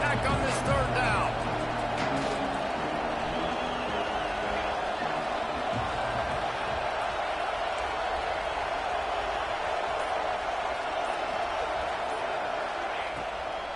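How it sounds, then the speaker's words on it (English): Stadium crowd noise from an NCAA football video game, a steady roar with a brief louder burst at the start, running continuously beneath play-by-play commentary. "Guns up, and so is the noise. The crowd electric trying to help tack on this 3rd down."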